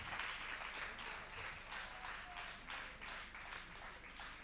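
Studio audience applause on a French television contest show, a steady rippling crowd clap at moderate, fairly distant level, continuing evenly for several seconds with no voices over it.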